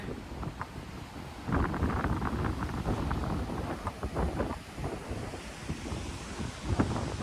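Wind buffets the microphone on a wide south coast beach, over a soft, continuous rumble of surf. The gusts rise and fall, and no one speaks.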